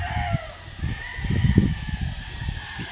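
Roosters and stags at a game fowl farm in Bacolod crow and cluck in the distance over a steady outdoor background, with repeated low calls rising and falling.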